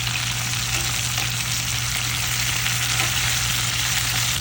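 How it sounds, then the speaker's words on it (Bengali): Fish pieces fry in hot oil in a home kitchen, a steady, close, dense sizzle crackling without pause and with no talk. "মাছগুলি আসলে সুন্দর মতো ভাজা হয়ে গেছে"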